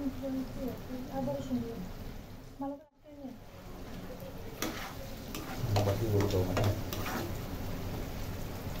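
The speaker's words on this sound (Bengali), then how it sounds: "মাংসের পাত্রে শসাগুলো দিয়ে দিলাম এবং ভালো করে নাড়াচাড়া দিয়ে দিচ্ছি।" Chicken and cucumber are stirred in a pan on medium heat, with soft scraping and clinking taps over a faint sizzle, quiet and close, while someone talks.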